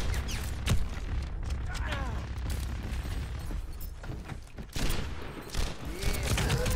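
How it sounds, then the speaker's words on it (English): Rocket barrage ultimate firing in the video game Overwatch, a dense run of rapid explosive bursts and gunfire-like pops over a constant rumble, loud and continuous with fast overlapping launches. "My ultimate is ready. Rocket barrage incoming."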